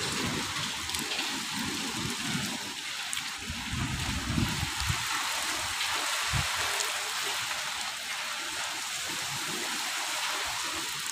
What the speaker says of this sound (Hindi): देखो बारिश आने लग रही है